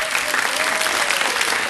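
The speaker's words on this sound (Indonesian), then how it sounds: "Tepukan untuk anda semua." Brief, loud crowd applause at a concert, dense clapping throughout, with a faint tone and some voices mixed in beneath it.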